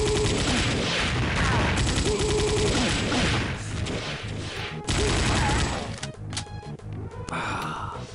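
Gunfire fills the Macintosh Wolfenstein 3D Siberian Offensive game, with dense rapid bursts of shots, loud and continuous, followed by scattered blasts and game effects near the end.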